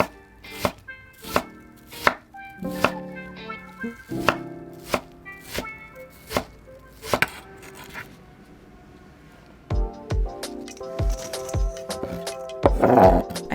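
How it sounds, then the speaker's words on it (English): Knife finely dicing vegetables on a board: sharp, rapid chops in uneven bursts, close and clear, with short pauses between runs and no talking. "chopping all of these vegetables very finely into diced pieces."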